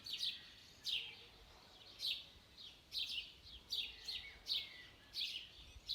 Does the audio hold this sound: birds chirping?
yes